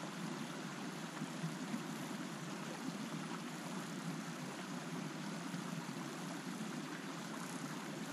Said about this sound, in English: We're lucky enough to have a stream here by camp